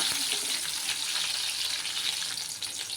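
Crushed garlic and green chillies frying in oil for an okra stir-fry, giving a steady, close hiss of sizzling that holds level for the whole few seconds with no voices.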